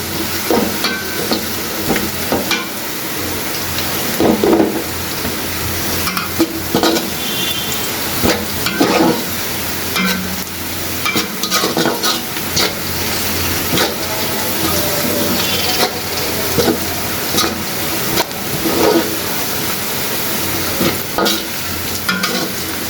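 Onions fry loudly in a pan with a dense continuous sizzle, broken by repeated stirring scrapes throughout, close and alone without talk.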